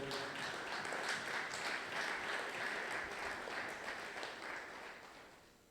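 A church congregation at a Sunday worship service applauds to acclaim the Lord, a dense sustained wash of clapping from many hands that holds steady, then gradually fades toward the end.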